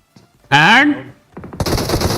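A volcano-effect grenade goes off in a shooter video game: a bright rising tonal whoosh, a short lull with scattered crackles, then a loud, dense blast that roars on to the end.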